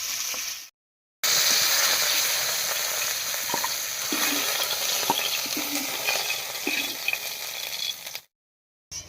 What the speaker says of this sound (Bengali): মাছগুলো ভাজা হয়ে গেছে নামিয়ে নিচ্ছি